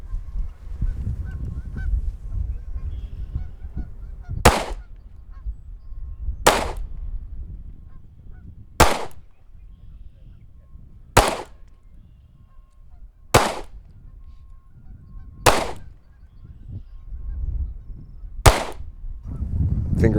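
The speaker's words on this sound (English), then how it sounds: "you're going to fire 7 rounds at target 10" Seven sharp pistol gunshots fired at a target on an outdoor range ring out at irregular intervals of about two seconds, each a loud crack over low wind rumble, with no talking between them.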